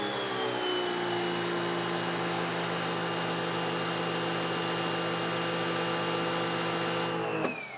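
A wall-mounted pressure washer with a retractable hose reel runs with the trigger pulled, a loud steady motor whine and pump drone holding for several seconds before winding down abruptly near the end, no talking.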